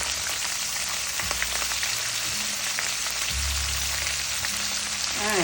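Shrimp, bok choy and garlic fry in a pan with a steady close sizzle and crackle, and a few soft thumps of stirring break in partway through.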